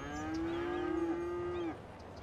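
Cattle mooing in the city-building game Cities: Skylines, a single long, loud, steady low moo lasting about a second and a half before cutting off, with no talk over it.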